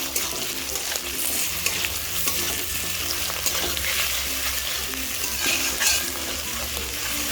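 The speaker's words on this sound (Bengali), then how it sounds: "এভাবে একটু নাড়িয়ে চাড়িয়ে নিচ্ছি তেলের মধ্যে" Mango pieces frying in oil in a pan, steady sizzling and bubbling throughout with occasional scraping strokes of a spatula stirring them, close and fairly loud, no speech.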